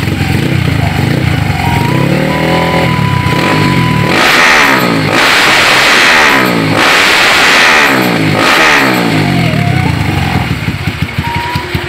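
A Kawasaki KLX motorcycle engine idles steadily, then revs up and down several times in loud surges before settling back to a rough idle.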